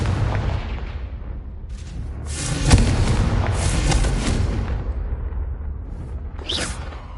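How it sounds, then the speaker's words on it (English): Confringo fire-blast spell in Hogwarts Legacy, a loud booming burst with a sharp crack near the middle, over a continuous rumbling battle din with whooshes late on. "Confringo!"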